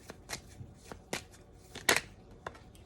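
Tarot cards are shuffled and drawn from a deck in a series of brisk, close riffles and snaps with short pauses between them, no voices.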